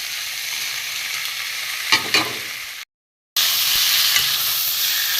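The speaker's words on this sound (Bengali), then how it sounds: "একটু কষিয়ে নেব এখানে চিংড়ি মাছটা আমি দিয়ে দেবো এর সঙ্গেই" Prawns and boiled taro sauté in a hot pan over low flame, a steady loud sizzle with a couple of stirring scrapes, broken by a brief cut before the frying hiss resumes.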